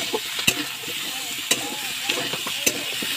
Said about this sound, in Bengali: এবার আমি এটাকে ভালো করে ভেজে নিই।